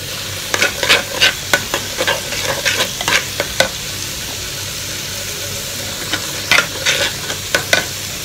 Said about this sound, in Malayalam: നമ്മുടെ ഫ്രൈ പാനിൽ വെച്ചിട്ടുള്ള കോളിഫ്ലവർ ഒന്ന് ചൂടായി വന്നിട്ടുണ്ട്